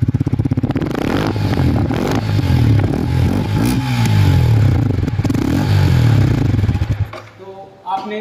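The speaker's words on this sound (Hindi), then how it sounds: "मैं भी आप इसके साइलेंसर की आवाज़ स्टार्ट करके दिखा रहा हूं आपको।" A Yamaha R15 V4 motorcycle engine runs loudly and steadily at idle with a throaty exhaust rumble, briefly revving, then cutting off near the end.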